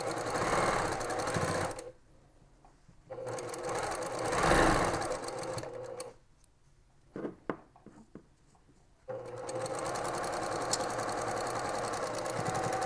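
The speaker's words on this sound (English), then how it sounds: "let's just sew all the way through those corners" A sewing machine stitching 2.5 inch quilt strips for a pyramid-pattern quilt: several bursts of fast, steady mechanical whirring separated by quiet pauses with small clicks and handling noises, close and clear.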